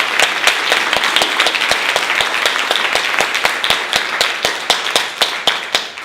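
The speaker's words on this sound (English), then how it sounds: "Please join me in giving our distinguished panelists a round of applause." An audience at an evening panel event applauds its panelists: loud, dense clapping with individual sharp claps standing out in a fairly steady rhythm, sustained throughout and tapering slightly at the end.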